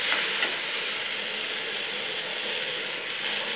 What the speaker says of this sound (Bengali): সব সবজিগুলো ভাজা ভাজা হয়ে গেছে,